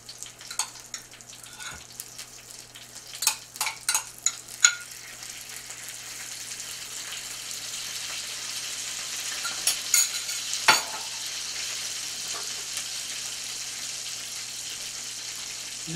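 Dill butter is spooned onto salmon with a series of sharp spoon clinks and scrapes against a quiet kitchen background. A soft, faint sizzle-like hiss runs underneath.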